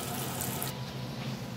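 Tap water runs steadily into a sink to wet toilet paper for cleaning a budgie cage, a constant close splashing rush with no talk.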